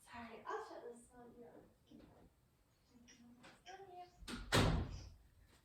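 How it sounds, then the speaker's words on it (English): An indoor door is pushed shut with a single solid thud near the end, following a stretch of close-up talk in a quiet room. "I'm gonna go shut his door."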